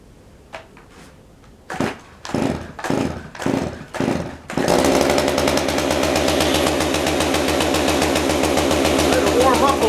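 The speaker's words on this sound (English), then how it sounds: "Got the chainsaw." A few sharp pull-start tugs, then a small two-stroke chainsaw engine sputters to life and idles loudly and steadily, close by.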